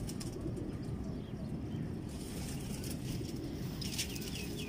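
Old crossbred pigeon breeds coo softly while wings flap, all under a dense, constant background hiss.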